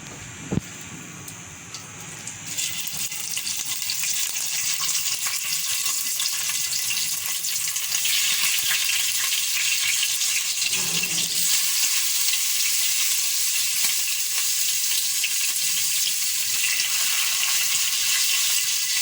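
Gizzard fries in hot oil in a pot with a loud, continuous sizzle that swells after a soft start and holds steady throughout, with faint stirring and clinks.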